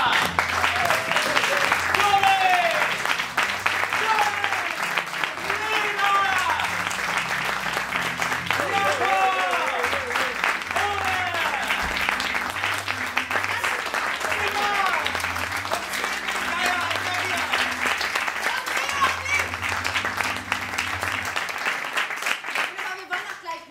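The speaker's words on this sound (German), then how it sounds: "Deswegen begrüßt bitte mit mir mit einem herzlichen Applaus." An audience claps and cheers steadily to welcome improv theatre performers on stage, a long, loud wave of applause with an announcer's voice calling out over it.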